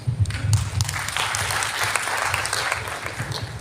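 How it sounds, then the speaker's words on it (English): An audience claps during a public talk in Mangaluru: a full, steady round of applause from a large crowd, close and fairly loud throughout, with low room rumble beneath. "Please don't be under compulsion to clap at everything."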